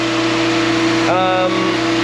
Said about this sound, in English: So as you can hear, she's revving off her tits at the moment.